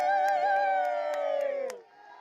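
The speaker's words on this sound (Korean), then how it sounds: "낙하산이 보이자 지상에선 환호성이 울리고" Onlookers on the ground cheer and whoop as a skydiver's parachute comes into view, a sustained, fairly loud vocal cheer that drops off sharply near the end.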